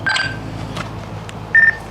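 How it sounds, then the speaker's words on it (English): An Alexa smart speaker gives a short, bright electronic notification tone, heard near the end after a few faint earlier tones and light room noise. "Their Alexa has a notification."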